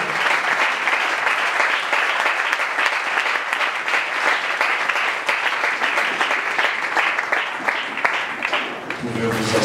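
A church congregation at a Sunday worship service applauds together, a dense, sustained wall of clapping that stays steady and loud throughout before easing slightly at the very end.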